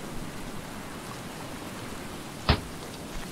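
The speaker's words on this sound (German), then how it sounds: "Da, es regnet schon wieder." Rain falls steadily in the survival game Stranded Deep, a soft continuous hiss with one brief louder thump partway through; moderate level, with no talk.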